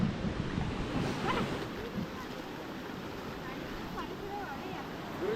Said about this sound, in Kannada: ನೋಡ್ಬಿಡ್ರಿ ಹೆಂಗ್ ಹರಿತೈತೆ ನೀರು.